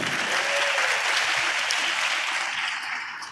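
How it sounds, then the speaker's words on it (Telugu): A church audience applauds during a Telugu sermon on prayer, dense, steady clapping from many hands filling the room for a few seconds before tapering slightly. "చప్పట్లు కొట్టే బాగానే ఉంది"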